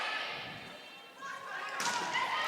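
A volleyball is struck during a school match against St Johns School; a single thump rings out over steady gym crowd noise and echoing room sound.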